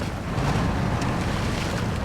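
Off-road vehicle in the Expeditions video game fording a water stream, a steady loud wash of splashing and rushing water blended with low engine rumble, continuous and close.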